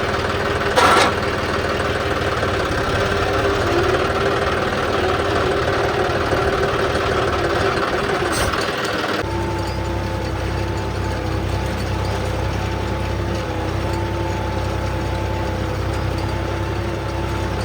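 John Deere 5210 tractor engine running in a 40-bigha field, a steady loud low diesel drone that shifts to a slightly different idle hum partway through.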